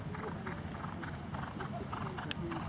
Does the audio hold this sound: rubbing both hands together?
no